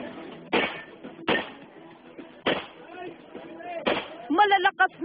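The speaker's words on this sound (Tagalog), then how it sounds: "Malalakas na putok ng baril ang maririnig mula sa gun enthusiast at law enforcers na lumahok sa Balon Dagupan Invitational Shoot Fest" Gun enthusiasts and law enforcers firing at an invitational shoot fest during a city fiesta, with four loud sharp gunshots spaced irregularly and a faint rapid clatter near the end, under someone talking.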